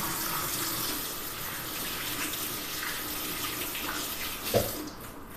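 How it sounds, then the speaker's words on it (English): Water runs steadily from a kitchen tap during handwashing, a constant close hiss with a brief splash near the end before the flow drops away. "we need to make sure we always wash our hands before beginning"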